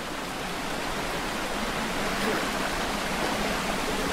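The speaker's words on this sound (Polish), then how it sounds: "I idziemy przez wodospad." Waterfall in the video game Far Cry Primal, a steady broadband rush of falling water at constant loudness, with no other sounds over it.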